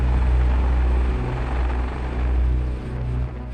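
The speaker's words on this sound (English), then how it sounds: "That is where the CH-53K King Stallion becomes a recovery asset." A CH-53K King Stallion heavy-lift helicopter, used to recover a crashed stealth jet, roars loud and close with a steady, deep rotor thump and engine drone, heard alone without voices.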